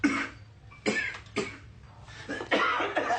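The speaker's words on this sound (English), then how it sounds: "You really ought to take care of that cough." Several harsh coughs from one person, close and loud, each a short broadband burst, spaced irregularly with a rougher throat-clearing hack near the end and no talking.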